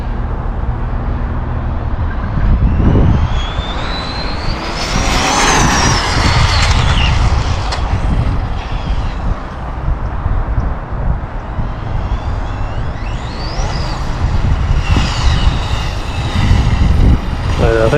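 An Arrma Limitless RC car runs hard with its tires spinning, giving a loud high-pitched motor whine that rises and falls in sweeps over rough rolling noise, with brief talk in the background.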